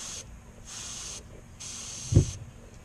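Aerosol can spraying chartreuse paint onto the belly of a jerkbait lure during restoration, three separate hissing bursts with short pauses between them and a small knock near the end, close and fairly quiet.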